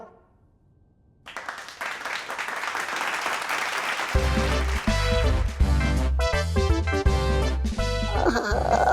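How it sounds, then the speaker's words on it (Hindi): After a moment of near silence, a crowd's clapping swells into a continuous wash, then bright, loud music with strong tones comes in over it and carries on to the end. "तालियों की आवाज है लगती कितनी मधुर"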